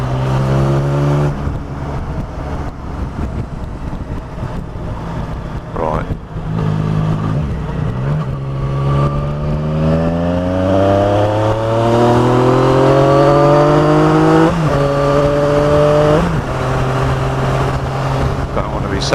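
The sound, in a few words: car engine revving through aftermarket exhaust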